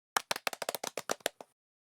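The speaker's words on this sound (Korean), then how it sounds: "우선 좋은 질문을 한 샘에게 박수를 쳐주자." Children clap in a sports training hall: about a dozen quick, crisp claps close by in a short burst that stops abruptly, with no talking.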